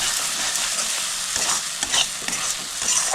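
Spice paste stir-fries in oil with a dense, steady sizzle close by. Scrapes and clinks from stirring sound periodically across the few seconds.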